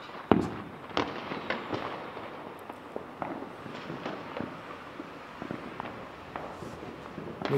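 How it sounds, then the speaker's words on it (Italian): New Year fireworks burst outdoors over Lamezia Terme, with scattered distant pops and crackles in an irregular rhythm, one sharper, closer bang early on and fainter reports continuing throughout. "Sparare no, ma i fuochi d'artificio me l'aspettavo."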